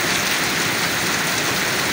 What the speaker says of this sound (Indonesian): malah hujan ini teman-teman